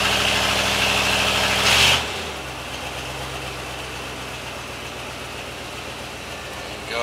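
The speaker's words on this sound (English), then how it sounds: "Still in drive, I'm holding the brake. It's a little over 1500 RPM." A Ford 460 EFI V8 idles high in drive at a little over 1500 RPM with the brake held, a steady close rumbling hum with a brief louder surge near the start before settling.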